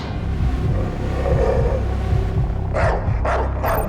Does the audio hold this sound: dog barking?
yes